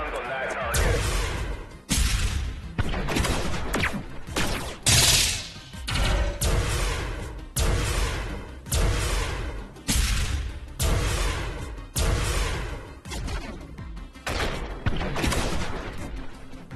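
Fleet guns in the video game Station Command fire on a target, with repeated heavy bursts and booming volleys in a steady rhythm over many seconds, loud and continuous, while a voice speaks throughout.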